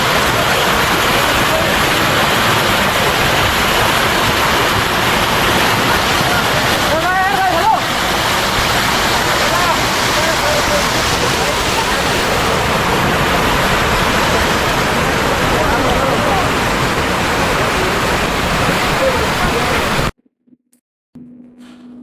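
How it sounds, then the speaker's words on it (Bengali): Waterfall in Sylhet running low in the dry summer season, a loud, continuous rushing wash of water heard up close for about twenty seconds before cutting out abruptly. "বন্ধুরা ঝর্ণা দেখলাম ঝর্ণার পানিতে একটু গোসল করলাম"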